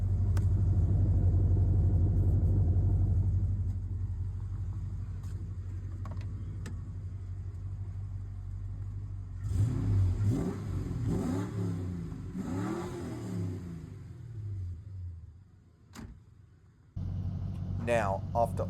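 A Ford Falcon's 302 V8 with an upgraded exhaust rumbles low at idle, then revs up in a couple of rising bursts before settling back, with voices talking over parts of it.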